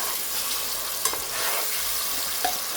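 Spices sizzling and crackling in hot oil as a tempering for Gujarati dal, a steady close frying hiss with a few sharper pops, no voices.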